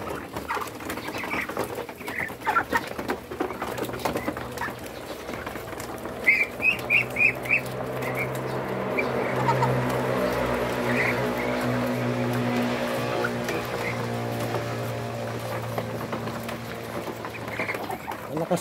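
Three-month-old Muscovy ducklings feeding, with a flock of bird calls and short cooing chirps scattered over a steady low background hum, moderately close, with no talk.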